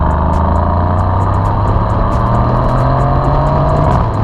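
A Mercedes C63 AMG's twin-turbocharged V8, with turbos mounted in the V and shared with the AMG GT and GT R, drones steadily and loudly while driving, a continuous close engine note with faint ticking clicks above it.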